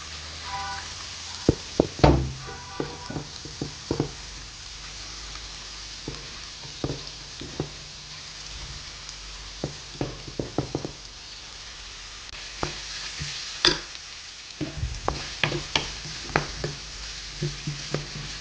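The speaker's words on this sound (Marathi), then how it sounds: "आनी ऑनियन्स घालून न्ही ताका बरें सोते करून घेता" Onions sautéing in a pan with coriander for a Konkani potato bhaji, giving a steady soft sizzle broken by repeated sharp knocks and scrapes of a spoon against the pan, close and without talk.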